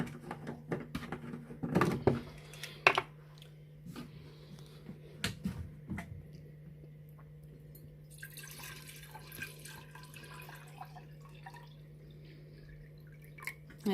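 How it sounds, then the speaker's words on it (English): Distilled water is poured into a Sea Monkeys tank: a few scattered drips and splashes early on, then a soft, steady trickle of filling water in the last seconds, all faint and close with a low hum underneath. "then fill this up with distilled water"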